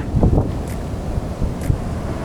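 Sea waves at high tide wash onto the shore at Panambur beach, a steady broadband roar with heavy wind buffeting the microphone and faint surges, no talk.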